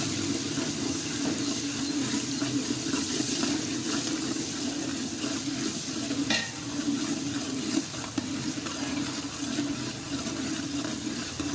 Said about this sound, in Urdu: دو سے 3 منٹ ایسے چمچ کو ہلاتے رہنا ہے